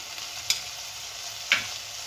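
Banana flower ghonto being stirred in a pan with garam masala and ghee, a soft continuous sizzle broken by two distinct scraping clinks of the spoon about a second apart.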